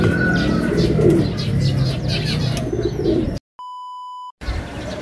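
Pigeons coo softly amid busy outdoor background noise, followed by a short electronic beep tone.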